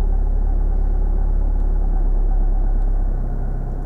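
Car engine running steadily as the clutch is slowly raised toward the biting point, a loud, continuous low rumble that drops slightly in pitch and load near the end, with no talking.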